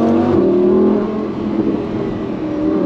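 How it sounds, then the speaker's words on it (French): A Lamborghini accelerates hard from inside the cabin, its engine note rising steadily and loud for a few seconds, with a faint whine over the steady roar and no voices. "Alors, une dernière accélération."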